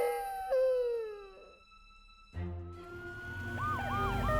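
Cartoon emergency vehicles, an ambulance and a police car, arrive with their sirens wailing in rising and falling sweeps over a rumbling engine, loud and close, with no talk.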